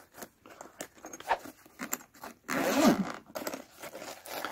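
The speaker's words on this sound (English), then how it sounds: "And this is actually a zipper case. I'm going to go ahead and open it." A zipper on the hard carrying case of a portable car jump starter is pulled open at close range, with soft handling rustles first and then a sustained, raspy zipping run.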